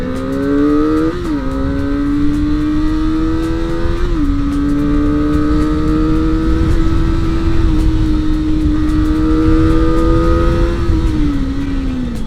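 A Kawasaki ZX25R motorcycle engine revs hard and loud throughout, a high screaming four-cylinder whine rising and dropping in pitch with gear changes, steady and close with no talk.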